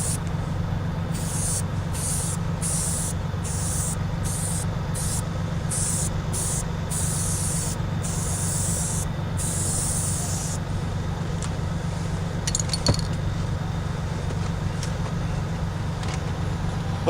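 Spray adhesive hissing onto the headliner of a Toyota Camry during a repair, rapid bursts of spray in a steady pulsing rhythm over a constant low background hum, then stopping, with no talking.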